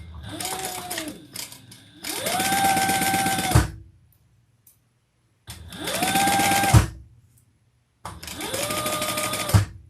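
A sewing machine bastes a small bag pocket in three close, loud mechanical runs of rapid whirring stitches. Each run ends in a thump, with short silent pauses between them and no talk.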